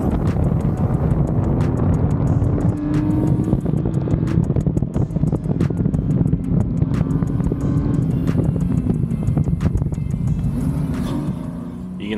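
A BMW E46 330ci on an autocross run, its engine roaring loud and close in a continuous drone that keeps surging and easing, with gusts of wind noise across the microphone and faint ticking in the background.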